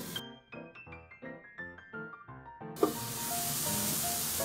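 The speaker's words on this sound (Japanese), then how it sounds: "蓋をして中火で1分半蒸し焼きします" Soft instrumental music plays, then a steady loud hiss of steam and sizzling takes over from lotus root steam-frying in a covered pan over medium heat, continuing to the end.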